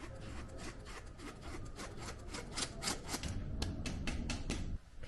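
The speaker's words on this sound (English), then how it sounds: "I'm going to start by sifting all my dry ingredients" A hand-cranked sifter works flour, cornstarch, baking soda, baking powder and salt for a berry Chantilly cake, giving a steady scratchy rasping with rhythmic clicks, close and continuous without talk.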